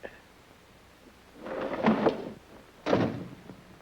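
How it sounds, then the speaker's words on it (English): Two dull wooden thumps, a door being shut, the second sharper and a moment after the first, in an otherwise quiet room. "While you close the door, I hope."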